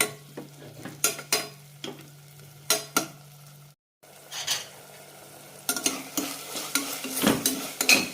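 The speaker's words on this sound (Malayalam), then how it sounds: "ഇടയ്ക്കൊന്ന് ഇളക്കി കൊടുക്കാം" A spoon stirs cooked-down tomatoes in a pot for Ambur kuska biryani, giving repeated scraping clinks against the metal over a low sizzle, a short pause, then faster, busier stirring and clatter toward the end.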